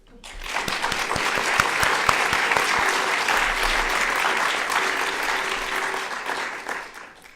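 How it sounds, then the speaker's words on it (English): Applause fills a symposium hall, a dense, loud burst of clapping from the audience that swells quickly, holds steady for several seconds and tapers off at the end. "Please, a big applause."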